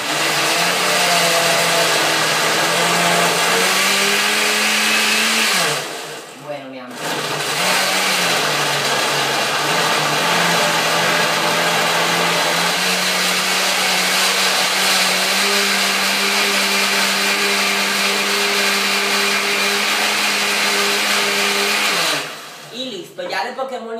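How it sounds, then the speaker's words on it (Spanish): A kitchen blender whirs loudly and steadily, blending a red antioxidant juice mix with a little water. Its motor pitch dips briefly twice and then settles back into a constant high drone. "Y de último, licuamos un poco."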